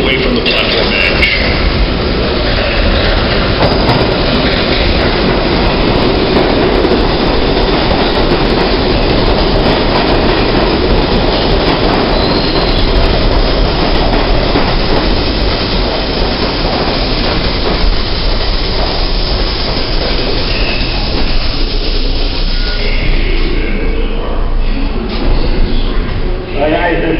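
A New York subway train on the 1 line arrives at 96th Street–Broadway station, rumbling loudly and steadily with rhythmic wheel clatter and faint squeals, close by, and a station announcement speaks briefly over the din.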